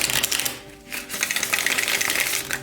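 Tarot cards being shuffled make a rapid, crisp, continuous riffling patter, close and fairly loud, with a brief pause partway through.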